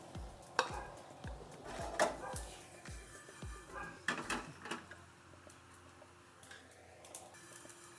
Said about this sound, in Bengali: কটা কাঁচা ধনিয়া নিয়েছি, জিরে নিয়েছি, কালো জিরে নিয়েছি। এগুলো আমি একটু ভেজে নেব।